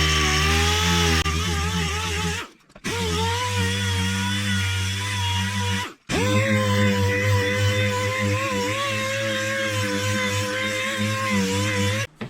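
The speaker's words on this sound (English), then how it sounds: "Got some 80 grit sandpaper on here. We're going to sand this to the right shape." Sanding foam on a Honda ATC 200X seat pan: a loud, steady tool whine with strong humming tones runs nearly nonstop, broken by two brief pauses.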